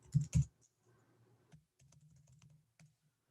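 Typing on a computer keyboard during a live stream: a couple of louder knocks at the start, then a quiet, uneven run of light key clicks.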